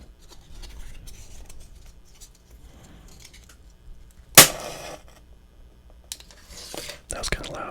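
A very old match is struck, giving a single sharp scrape and burst that flares into a brief crackling hiss, set against near silence with faint handling noises and quiet whispering.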